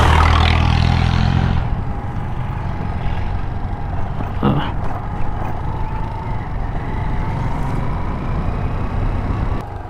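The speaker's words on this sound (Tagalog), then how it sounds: "Ang lalaki ng mga truck dito ba?" Large trucks roar past on a mountain road in Barangay Ned near Lake Sebu, a steady loud engine rumble that fills the scene throughout, with a voice speaking over it.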